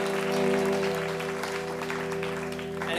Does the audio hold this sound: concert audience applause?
yes